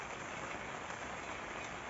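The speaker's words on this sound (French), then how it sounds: "Petit déjeuner alors qu'il pleut et que le vent il fait son office." Rain and wind beat on a camper van at a campsite in Saint-Pancras, France, a dense, even patter and hiss that stays quiet and steady throughout, with no voices.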